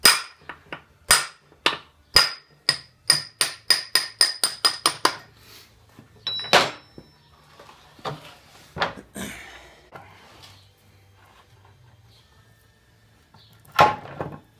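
Metal-on-metal hammer blows drive a brass drift or punch against the shaft of an NP205 transfer case, a rapid run of a dozen sharp strikes followed by a few scattered louder hits, with no talk.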